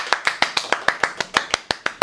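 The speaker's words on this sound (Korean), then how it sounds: "박수!" Clapping from a small group during a Korean interview, about a dozen sharp, evenly spaced claps over two seconds, close and moderately loud, with no talk over them.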